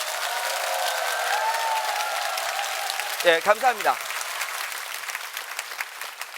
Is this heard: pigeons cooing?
no